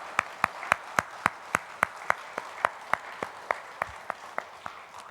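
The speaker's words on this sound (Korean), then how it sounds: "큰 박수하도록 하겠습니다" A church congregation claps along in a steady, evenly spaced rhythm, each sharp clap ringing clearly through the sanctuary at moderate volume with no speech over it.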